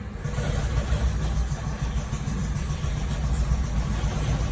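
A 2010-or-later Toyota Prius 1.8L 2ZR-FXE engine runs poorly, giving a steady, rough, low rumble with a constant grumbling drone and no revving.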